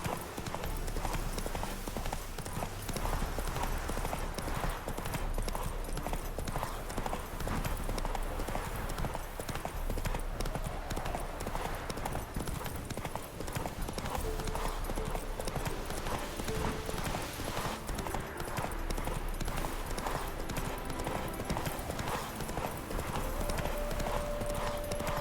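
Roach, a horse in The Witcher 3, clip-clops along in a steady, continuous rhythm of hooves throughout, loud and close, with game ambience underneath.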